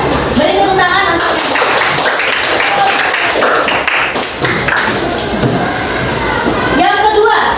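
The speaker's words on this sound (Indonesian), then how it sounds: "Beri tepuk tangan untuk" Children in a classroom clap together, brisk and loud up close, mixed with thumps, taps and children's voices chattering throughout.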